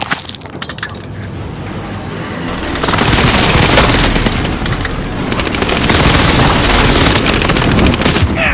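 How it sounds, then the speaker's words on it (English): Allied precision airstrike in a shooter video game: dense, continuous rapid gunfire and rattling bursts mixed with booming explosions, loud and close throughout, with no voice over the barrage. "Allied precision airstrike incoming."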